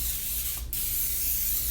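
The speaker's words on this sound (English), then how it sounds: "Next thing I'm going to do is I'm going to spray, because you know me and my spray." A can of cooking spray hisses into a pie pan for a no-bake grasshopper pie, one short burst of about a quarter second, close and fairly loud against a steady low background hum.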